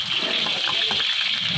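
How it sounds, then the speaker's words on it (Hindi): Cooking oil poured into a kadhai, a steady liquid gushing and trickling pour throughout, close and fairly loud with no talking. "ये हल्का सा ऑयल डालें कढ़ाई"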